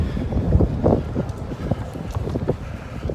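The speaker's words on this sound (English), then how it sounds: "So windy, you can probably barely even hear me." Gusty wind buffets the microphone in low rumbling bursts, uneven and close, with a few scattered thumps, outside a football ground after a Burnley versus AFC Bournemouth match.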